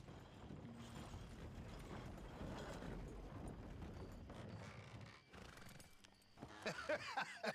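A horse neighs and its hooves clop in a video game, set against a busy ambient bed, with sharper, brighter whinny-like calls rising near the end.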